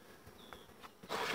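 Honeybees buzzing around an open hive split being given extra bees, a soft continuous hum with a few passing buzzes close to the microphone.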